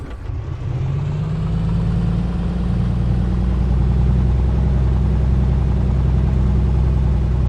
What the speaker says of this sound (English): now let's press the starter button, and hopefully she'll start